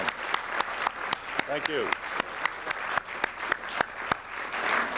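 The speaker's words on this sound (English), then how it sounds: "now we can all give them a great hand" Audience applause at a 90th birthday celebration, a steady crowd clapping with sharp individual claps scattered throughout, while a voice briefly speaks over it.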